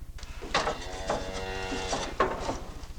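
A farm cow being milked lets out long, drawn-out moos, two or three sustained lowing calls, over a steady low pulsing rumble in the background.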